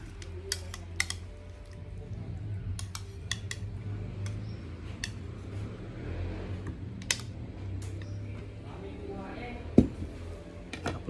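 Cutlery and dishes clinking during a meal of paksiw na tawilis, scattered sharp taps and scrapes over a low steady background hum, with a person talking.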